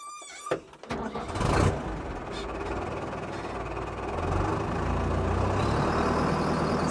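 A Fendt Farmer 306LS tractor engine starting, a few quick cranking bursts, then the diesel catches and settles into a steady rumbling idle that grows slightly louder toward the end; no talking.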